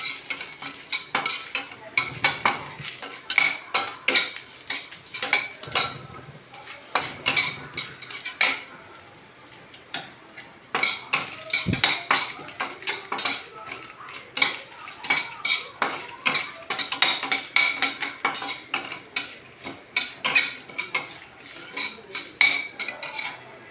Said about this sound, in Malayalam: ഇത് നന്നായി ഒന്ന് സോട്ട് ചെയ്യാം.